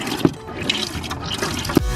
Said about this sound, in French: Le robinet à pompe.